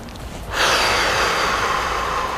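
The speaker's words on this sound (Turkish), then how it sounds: "burnundan nefes alıp ağzından verebilir ki oksijen kullanım kapasitemizi çok kullanalım" A person breathes in through the nose and out through the mouth, a quiet intake followed by a strong, airy exhale close to the microphone.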